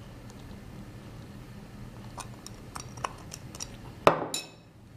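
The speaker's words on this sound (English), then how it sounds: "Then mix all the ingredients." Soft kitchen sounds from mixing bread bun dough ingredients with milk and oil: faint scattered clinks of a utensil against a bowl, then a sharper clatter and brief scraping near the end.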